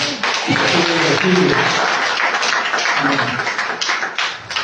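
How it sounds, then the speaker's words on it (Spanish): A church congregation applauds during a Spanish-language service, loud continuous clapping with voices talking and calling out over it throughout. "Date un aplauso que mi reina"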